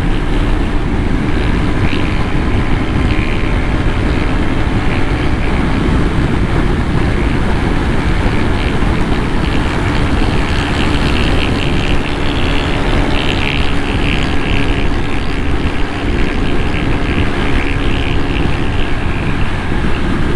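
A Royal Enfield Interceptor 650 motorcycle cruising at about 140 km/h on a highway, a loud, steady roar of engine and wind rushing past the rider, continuous and unbroken, with no voices.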